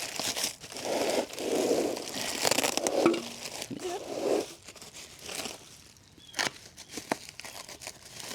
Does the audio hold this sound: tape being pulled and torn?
yes